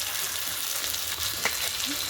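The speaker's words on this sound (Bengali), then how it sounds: "দিয়ে ভালো করে তেলের সাথে আলুটাকে ভেজে নেবো ভালো করে" Steady broadband sizzle of potatoes frying in oil, with a few faint crackles and light clinks over a constant hiss.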